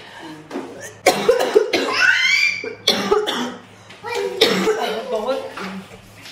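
A woman with a bad cough hacks repeatedly, the harsh coughs close and loud and mixed with strained throat sounds, with a little talk in between.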